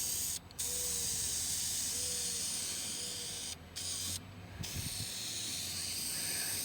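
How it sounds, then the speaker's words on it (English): Rattle-can spray paint hisses in a steady, continuous stream while a van's cargo doors are coated, close and loud, broken by a few brief pauses between passes. "Bad thing about rattle cans is everybody wants to cover in one coat"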